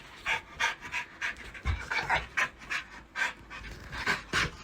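A puppy pants close by in quick, steady breaths, roughly ten rhythmic huffs with nothing else over them.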